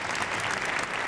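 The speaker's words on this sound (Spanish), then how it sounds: "Aplausos para el rey en el lugar que primero proclamó la monarquía moderna" A crowd in a small oratory in Cádiz applauds the king, a brief, steady, dense burst of clapping heard at moderate distance.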